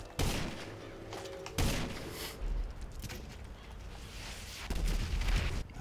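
Gunfire in GTA Online: several loud bursts of shots and heavy thumps, close and sharp, with sustained noisy firing between the peaks and no talking.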